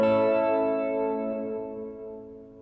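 Guitar chord played through a reverb effect with the damping turned fully up, a single strummed chord ringing out and decaying smoothly over a couple of seconds with a darkened, softened tail, no voices.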